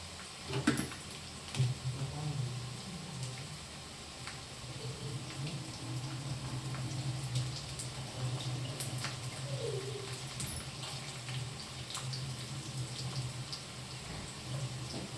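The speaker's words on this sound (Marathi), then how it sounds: "तोपर्यंत इकडं फ्लावर स्वच्छ धुवून घ्यायची" Boiled cauliflower is rinsed in water in a home kitchen. Faint, soft splashing and trickling continue steadily, with a low background hum and a few louder knocks near the start.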